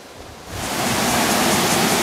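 Waterfall in Taiwan, a broad rushing roar of falling water that swells up after a quieter first half-second and then holds steady and loud.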